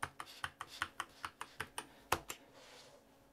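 Password keys tapped on a computer keyboard, about a dozen crisp close clicks in a steady rhythm, then a pause and a couple of final presses.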